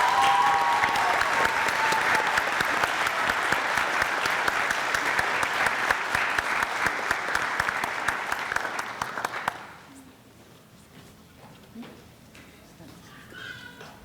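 Applause for new National Honor Society officers at a high school induction ceremony, a full crowd clapping loudly for several seconds before stopping abruptly, leaving quiet room noise with a few stray claps.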